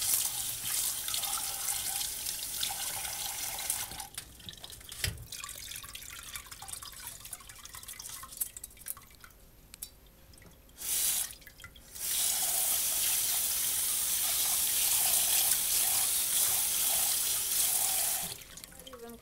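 Rice being washed in a sink under a running kitchen tap, a loud steady rush of water with swishing and dripping, briefly cut off midway before the stream resumes, close by with no talking.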